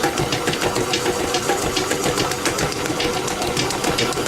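A dough mixing machine churns naan dough after overspeeding, a steady mechanical rumble with rapid rhythmic thumping, loud and close, no voices.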